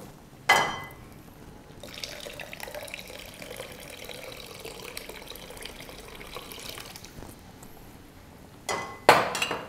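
Water runs and splashes steadily into a pan of Madras fish curry for several seconds, framed by sharper clanks at the start and end, fairly quiet overall.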